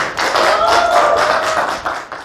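A burst of clapping from a crowd, loud and dense for a couple of seconds before tapering off.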